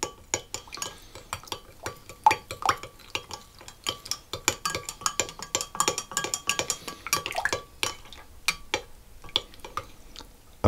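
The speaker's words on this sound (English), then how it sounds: "And then I'm going to add into that the active dry yeast and stir it around." Active dry yeast being stirred into water in a bowl for Polish rye bread, giving a fast run of light scraping and clinking strokes close by, steady and busy without pause, with no talk.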